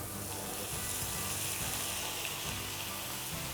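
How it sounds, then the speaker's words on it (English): Food seasoned with salt, pepper and soy sauce sizzles steadily in a hot pan, an even, close, crackling hiss that continues unbroken. "Nice sizzle."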